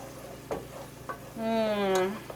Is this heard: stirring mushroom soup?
yes